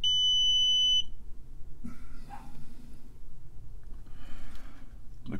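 A multimeter in continuity test mode gives one steady, clear beep lasting about a second while probing a Tandy Model 4P power supply, followed by quiet handling noise.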